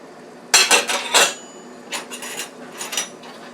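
Beef and vegetables being added to thick gravy in a pot, heard as a burst of scraping and clanking utensil strokes against the pot, then a second quieter series of scrapes.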